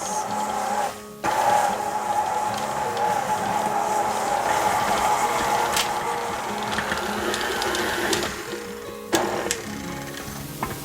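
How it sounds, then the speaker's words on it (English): A kitchen mixer whirs steadily through monster cookie dough, a continuous motor drone with a faint tonal whine that runs for about eleven seconds, dipping briefly near the start. "now let's give that a mix."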